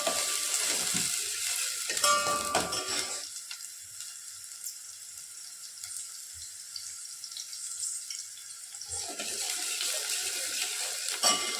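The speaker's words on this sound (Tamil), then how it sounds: "வெங்காயம் நல்லா வதங்கட்டும்" Small shallots for a fish curry sauté in a pan, sending up a loud crackling sizzle with stirring scrapes at the start and end and a quieter, hissing stretch in the middle.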